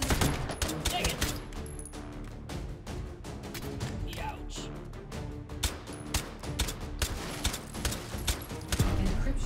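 Rapid, dense bursts of gunfire crack out in the virtual reality shooter Hot Dogs, Horseshoes & Hand Grenades, sharp repeated shots in quick succession, close and loud, continuing throughout.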